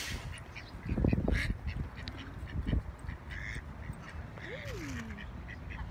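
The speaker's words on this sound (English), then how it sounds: "There is a North American wood duck that is a native species around here as well." Ducks quack in a zoo waterfowl habitat, a cluster of loud nearby calls followed by a few scattered quacks and a drawn-out call over outdoor background noise.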